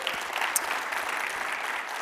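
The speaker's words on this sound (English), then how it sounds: "so please give them a round of applause." Applause from an audience at a games, tech and media industry talk, a steady even patter of many hands, moderately quiet and continuous throughout.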